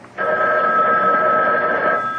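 A telephone in a 1982-set video game rings with one loud, continuous electronic trill that starts abruptly and holds steady, close and clear with no talk over it.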